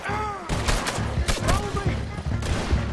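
A gunfight in Red Dead Redemption 2 erupts with a dense, continuous volley of loud gunshots from many shooters, with overlapping cracks and booms that keep going throughout, while voices shout over the din.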